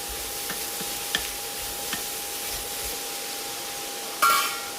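A spatula stirs a snake gourd and green gram thoran in a pan, making a few scattered light scrapes and taps over a faint, steady sizzle, ending in a louder clatter near the end.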